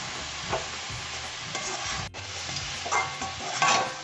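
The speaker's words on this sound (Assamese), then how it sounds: "এতিয়া মই ভাজি আছোঁ।" Grated carrot and coconut barfi mixture fries on low flame in a pan, a steady soft sizzle broken by repeated scraping stirs of a spatula, close up and without speech.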